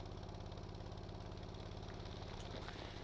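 A Mack R dump truck engine in the Stormworks video game runs with a steady, loud, low rhythmic diesel chug and a faint knocking pulse throughout, heard alone without talk.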